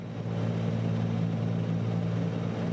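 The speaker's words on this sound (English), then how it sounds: "Our engine doesn't sound too good anymore," Damaged single piston engine of a Navion B in Microsoft Flight Simulator 2024, a rough steady drone with a low humming tone, loud and continuous without any talk.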